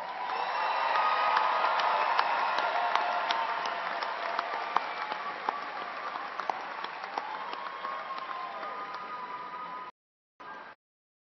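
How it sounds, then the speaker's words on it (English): At a university commencement, a large audience gives sustained applause, dense and steady for about ten seconds before it cuts out, with a short final burst. "One more round of applause."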